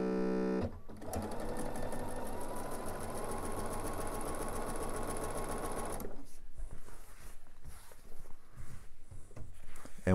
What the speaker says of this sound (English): And then we'll just sew from corner to corner.